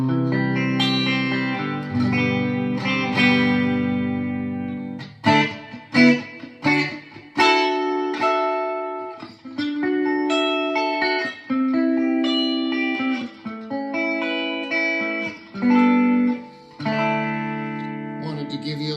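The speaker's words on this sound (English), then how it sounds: "I've got the reverb up halfway. It's a very subtle reverb." Electric guitar played through a Quilter SuperBlock UK amp with reverb set halfway, a run of clean strummed chords and picked notes with brief pauses and a subtle reverb tail, close and alone.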